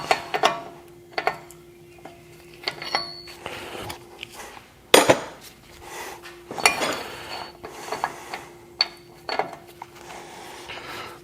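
A special four-prong socket for a Classic Wagoneer's nut clinks and clanks metallically, close up, in irregular bursts with short pauses between them, and no talking.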